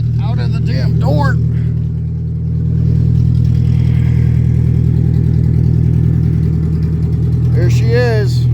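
Shay Thunderbird replica car, a low-mileage barn find, idling steadily with a loud, even low engine drone throughout, close by, while someone talks briefly at the start and near the end.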